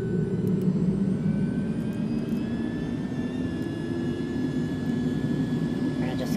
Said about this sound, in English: And firing up the aircraft.